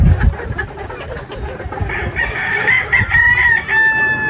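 Gilmore brood stags and other chickens kept for a Clark, Pampanga expo crow loudly and cluck, with rising cock-a-doodle-doo calls over a busy background of clucking and rustle.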